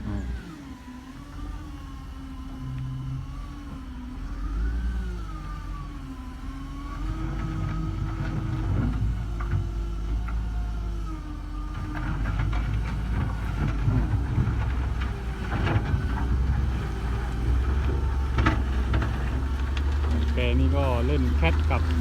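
Heavy road construction machinery working at a laterite roadwork site, a steady low diesel engine drone with wavering revs and rising intensity, mixed with wind buffeting and someone talking over it.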